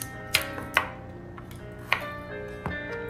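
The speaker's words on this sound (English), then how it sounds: "Next, I'm going to chop carrots." Carrots are chopped on a board with a kitchen knife, four or five crisp separate knocks at an uneven pace, close and clear with no talk over them.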